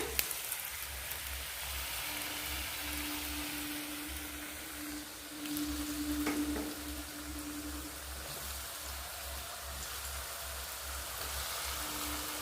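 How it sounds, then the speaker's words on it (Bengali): Paneer pieces fry in hot oil for a home-cooked dinner, giving a steady, even sizzle like light rain that runs throughout over a low background hum, with no talking. "এই যে দেখো বন্ধুরা তেল গরম হয়ে গেছে, সব একটা একটা পনিরগুলো আগে ভেজে নিচ্ছে"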